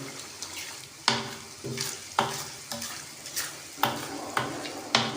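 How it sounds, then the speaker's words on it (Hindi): Spoon stirring cream into chicken white handi in a pan, with repeated scraping strokes about every half second to one second, close and fairly loud, a soft sizzle continuing underneath. "क्रीम शामिल करने के बाद हम इसे अच्छे तरीके से मिक्स कर लेंगे।"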